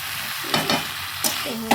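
Spiced vegetables stirred and fried in a pan, a steady sizzle under a few scraping strokes of a small spatula, close and fairly loud.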